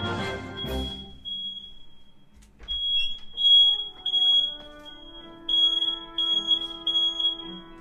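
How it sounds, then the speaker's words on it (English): A home fire alarm sounds in a series of sharp, high repeating beeps, loud and close, after a burst of other noise at the start, with a steady tone running beneath. "Oh yeah, it's definitely my fire alarm."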